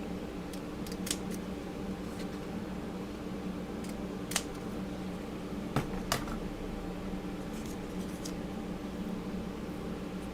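Scissors snipping a UV resin inclusion shape, a few sharp, separate cuts over a steady hum of background noise.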